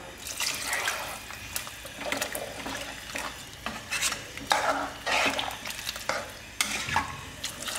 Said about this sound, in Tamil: இந்த காய் முழுகிற அளவுக்கு தண்ணி ஊற்றிக்கலாம்.